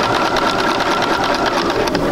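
A sewing machine runs steadily while stitching a quilt seam, giving a continuous close, even mechanical whir with a fast rhythmic needle patter throughout.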